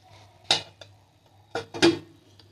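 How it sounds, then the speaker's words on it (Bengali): A lid is set on a pot of yogurt chicken, making three sharp metallic clanks close by in a quiet kitchen: one alone, then two in quick succession. "এরপরে ঢাকা দিয়ে দেবো"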